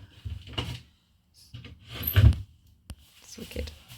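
A new door on a narrowboat is slid and handled, giving a few scraping rumbles and a sharp click, mixed with speech and movement in a close space.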